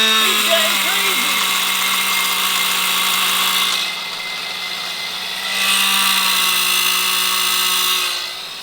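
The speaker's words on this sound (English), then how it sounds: "He left the saw running!" A power saw whines steadily while cutting into a seized bolt during a Volkswagen MK6 GTI turbo upgrade, the high buzzing tone pausing briefly midway before resuming, with excited voices shouting over it.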